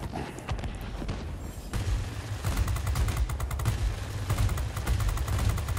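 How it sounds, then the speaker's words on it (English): Rapid bursts of heavy cannon fire from a P-39N-1 Airacobra in World of Warplanes thud in quick succession, growing denser and louder partway through over a continuous rumbling background. "we hit him with our giant cannon"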